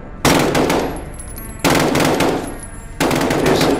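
Sustained automatic gunfire in Call of Duty: Modern Warfare, three loud dense bursts of rapid shots, each starting abruptly and rattling on with a reverberant tail, no talk.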